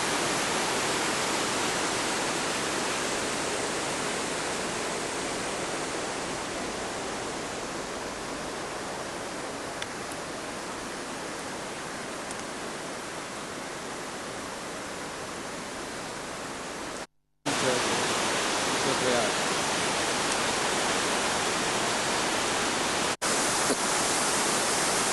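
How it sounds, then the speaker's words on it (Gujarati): River water rushing at the Rudraprayag confluence in the Himalayan foothills, a steady, loud broadband roar that fills the clip almost without pause, broken only by a brief dropout near the end. "દેવપ્રયાગ પછી આ આવે છે રુદ્રપ્રયાગ. એક નદી આ બાજુથી આવે છે."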